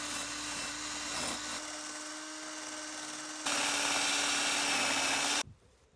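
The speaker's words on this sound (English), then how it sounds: "Got these wire brush attachments for the drill." A power drill with a wire brush attachment whines steadily and abrasively while stripping metal, grinding louder partway through before cutting off abruptly at the end.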